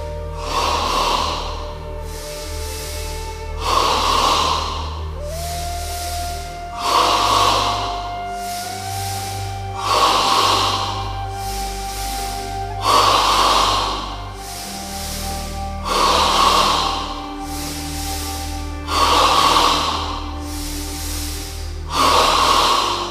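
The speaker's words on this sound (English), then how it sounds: "In stage 3 of double breathing, we breathe entirely in the chest, 10 times." Yoga chest breathing: a run of deep, even breaths, close and clear, repeating about every two and a half seconds over soft sustained music.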